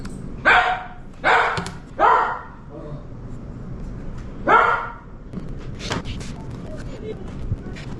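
A dog barks at an animal on a television, giving three sharp barks in quick succession, a pause, then another bark and a few softer yips over quiet room noise.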